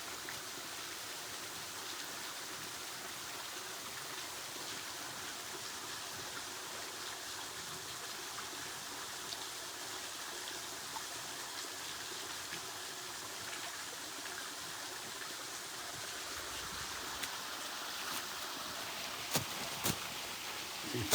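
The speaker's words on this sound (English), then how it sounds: "Let me get up in here to this little waterfall" Small waterfall and creek flowing in Box Canyon, Hocking State Forest: a steady, broadband rush of running water fills the whole stretch, close and even, with a few faint clicks and footsteps near the end.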